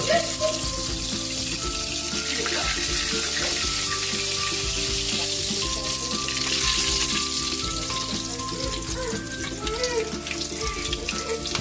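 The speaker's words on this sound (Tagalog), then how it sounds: "nakaluto na po tayo ng ating pritong isdang tilapia" Tilapia fish frying in hot oil gives a steady, dense sizzle and crackle that runs unbroken and fairly close, with no talking over it.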